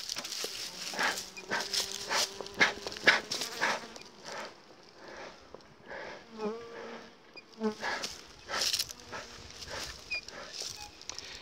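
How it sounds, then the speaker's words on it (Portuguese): A swarm of honeybees hums steadily at close range, with individual bees buzzing past and a dog barking in short bursts in the background. "Esse é um enxame"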